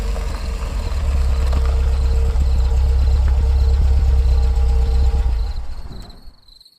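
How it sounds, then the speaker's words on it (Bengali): A car engine in a horror audio story runs as a low, steady rumble with a faint higher hum, holding for several seconds before fading away into quiet at the end. "একটা গাড়ির শব্দে তন্দ্রা ভেঙে গেল।"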